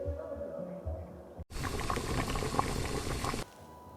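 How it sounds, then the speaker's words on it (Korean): A pot of boiling water for cooking ramen: a sudden, steady broadband rush of bubbling and hissing fills the clip at close range, louder than the quieter stretch before it, then cuts off near the end. "라면 익힐 끓는 물 놓고 왔어"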